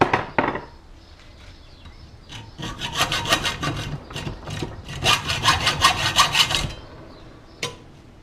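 Hand sawing through a piece of wood being cut into a rest for a fishing rod, with close, loud back-and-forth strokes in two steady runs separated by a brief pause.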